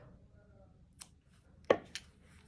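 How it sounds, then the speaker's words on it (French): Scissors snip through yarn at the end of a crocheted granny square, giving two sharp, close cuts in an otherwise quiet room. "Et là, on va couper le fil."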